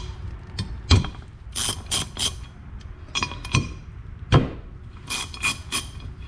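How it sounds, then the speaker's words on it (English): A ratchet loosens the differential cover bolts on a Ford 8.8 axle, giving bursts of quick clicking pawl strokes with metallic clinks and taps in between. It is close and moderately loud, with no talk. "you're gonna wanna loosen everything up and back these out as far as you can"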